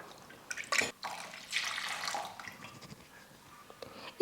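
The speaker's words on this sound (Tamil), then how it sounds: "இப்போ இதே மிக்ஸி ஜாரில் ஒரு கிளாஸ் தண்ணியை சேர்த்துட்டு நல்லா அலசி சேர்த்துக்கிறேன்." A glass of water splashes and pours into a mixer jar in short bursts, close up, with a few drips and small clatters between pours.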